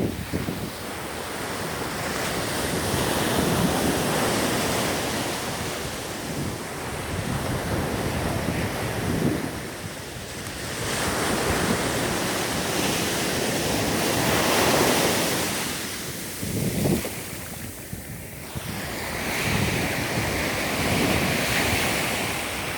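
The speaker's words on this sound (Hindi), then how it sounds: "आइए समंदर के दर्शन करें" Sea waves on a beach surging and washing ashore in a continuous rolling roar that swells and recedes, mixed with wind buffeting the microphone, with no talking.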